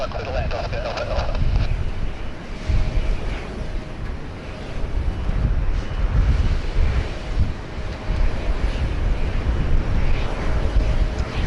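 A plane landing on runway 16 right at Sydney Airport in a 22-knot wind, heard as a steady broadband roar with heavy wind buffeting the microphone throughout, loud and continuous with no speech.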